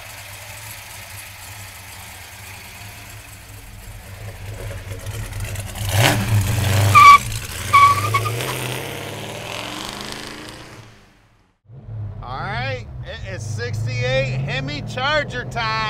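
A 1968 Dodge Charger with a HEMI engine idles with a low, lumpy rumble, then revs hard to about half throttle and drops off, while someone talks over it.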